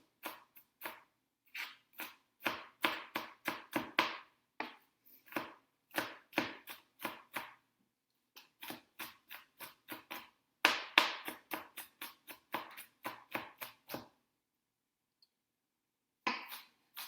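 Knife chopping food on a cutting board into small pieces during meal prep, a rapid run of crisp, close taps in quick bursts with short pauses between them.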